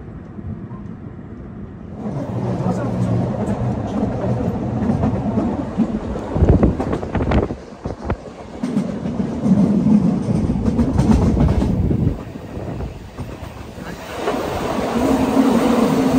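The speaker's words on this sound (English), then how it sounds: "The train will cover in a series of bridges, tunnels, and bends" The Bernina Express passenger train runs on rails with a steady loud rumble and rolling clatter, close by and continuous, with shifting intensity as it moves along through bridges, tunnels and bends.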